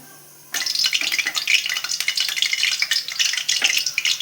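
A pan bursts into a loud, busy sizzle as sliced onions go into hot oil with dry red chilli, white cumin, cardamom and cinnamon, crackling and spitting steadily after a quiet start.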